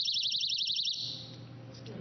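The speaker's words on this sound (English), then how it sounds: "another great thing is alarms" Handheld personal safety alarm for runners gives a piercing warbling shriek for about a second, then cuts off, leaving room noise and faint murmur.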